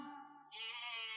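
A man imitates goats bleating during a village Ramlila performance, giving a single drawn-out nasal bleat that rises sharply in pitch halfway through, close and loud with no other sound around it.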